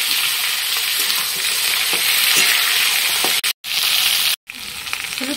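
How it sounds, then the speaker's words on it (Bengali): Chopped vegetables for dal hit hot oil in a pan and sizzle loudly and continuously at close range, broken by two brief drop-outs near the end, with no voices. "আর এখন ছেড়ে দেবো এই সবজি, কাটা সবজিগুলো সব"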